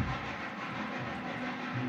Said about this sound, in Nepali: सेकेन्ड टोय ट्रेन आउँदैछ